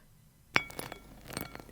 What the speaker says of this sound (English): Each little strawberry has its own clink when it lands.